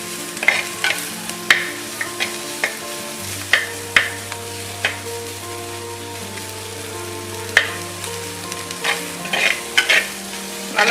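Garlic, green chilies and curry leaves sauté in a clay pot for fish curry, sizzling steadily at low level while a utensil stirs and scrapes in irregular bursts, with a low hum beneath.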